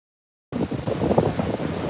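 Wind gusting at a cloudy beach in Playa Del Carmen, Mexico, at sunrise: a loud, steady roar of blustery air buffeting the microphone, starting abruptly after a half-second of silence and continuing without pause.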